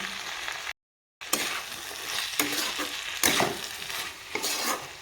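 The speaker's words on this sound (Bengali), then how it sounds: "তো সুন্দর করে আমি সবগুলো একসাথে আমি কষিয়ে নেব" Green peas being stirred and sautéed with salt and turmeric powder in a pan, a steady close sizzle with repeated spatula scrapes and a brief silent gap near the start.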